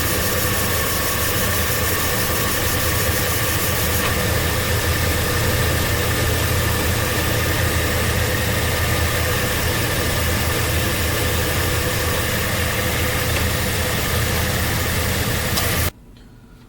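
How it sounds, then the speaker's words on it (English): A 2010 Chevy Silverado 2500HD 4x4 with a 6.0L V8 idles steadily up close, a continuous, even engine drone with a low rumble that holds for about sixteen seconds before cutting off abruptly. "so engine's running on idle"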